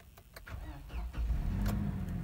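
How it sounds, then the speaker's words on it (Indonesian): The 2.7-litre engine of a 2008 Toyota Fortuner G automatic cranks briefly, then catches and settles into a steady, close, low idle rumble. "Bentar saya nyalain dulu."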